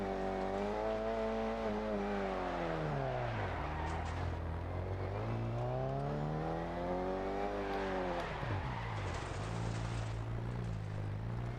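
A two-door British rally car's engine in DiRT Rally 2.0, revving up and down in repeated rising and falling sweeps as the car drives and shifts, a close, buzzy engine note heard alone.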